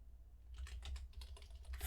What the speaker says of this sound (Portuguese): Então aqui vou digitar ponto e vírgula